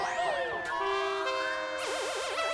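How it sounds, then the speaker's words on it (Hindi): A housing society's alarm siren blares loudly and continuously, sweeping through rising and falling tones and ending in a rapid warbling wail. "ये सायरन की आवाज बंद करो, मेरे कान फट रहे हैं।"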